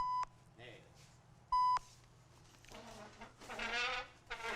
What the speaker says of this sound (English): That's right, people. 3 beeps.